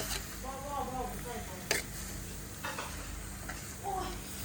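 Minced beef stir-fried in a pan for Thai laab, a soft continuous sizzle broken by a few sharp scraping stirs, with a voice talking over it at times.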